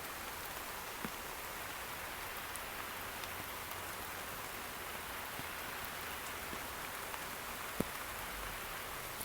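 Steady soft rain patters close up, with occasional sharper drops tapping a phone throughout, quiet and alone.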